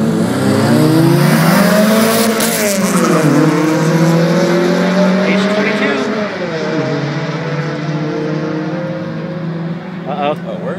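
A car engine revs loudly and continuously at a race track, its pitch climbing and falling through repeated gear changes, with voices talking over the roar.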